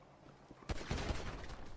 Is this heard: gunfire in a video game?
yes